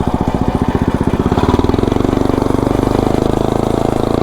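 A lawnmower fitted with a snowblower engine chugs along in third gear, its steady single-cylinder putter loud and close, the firing pulses quickening into a faster, even drone after the first second or so.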